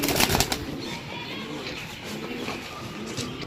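Teddy pigeons coo with a few quick wing flaps near the start, then a steady low murmur of birds continues at moderate loudness with no talking.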